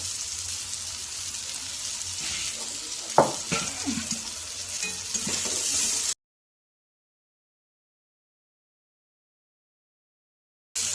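Onion, tomato and red chili powder sizzling in a pan while being stirred, a close hissing fry with a few scraping stirs for about six seconds, then near silence until a brief return at the end.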